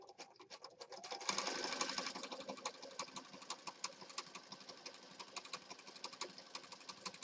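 Sewing machine stitching across fabric and a lace tie for a pansies junk journal, a steady rapid mechanical patter of the needle that swells and then runs on evenly, close and alone without talk.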